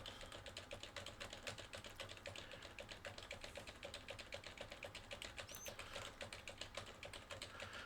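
Fingers typing rapidly on a computer keyboard, a dense, quiet, even stream of clicking keystrokes heard close and alone for several seconds.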